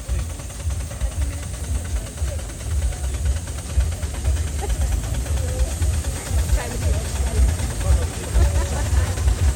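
A 1919 Fowler Tiger 4-horsepower steam traction engine on rubber tyres hisses steadily at a steam and vintage rally, a constant breathy rush over a low rumbling chug, with a commentator's voice faint in the background.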